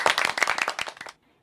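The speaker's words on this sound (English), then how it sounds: "Let us give them a round of applause." A class of children clapping together in a classroom, a quick burst of close hand claps that stops abruptly after about a second.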